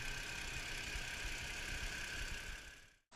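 A BMW 3 Series E90 engine idles with a steady, even hum and faint knocking texture, close up, before cutting off abruptly.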